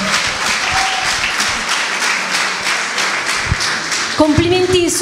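An audience at an international film festival in Ruvo del Monte, Basilicata, claps steadily for several seconds, a dense patter of many hands, before a voice and a tonal sound break in near the end.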